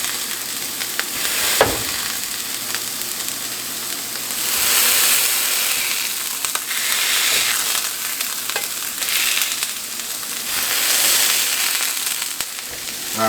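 Plant-based burger patties sizzle loudly on a hot surface as they are pressed down, a continuous crackling hiss that swells in waves, with occasional scraping clicks from a spatula.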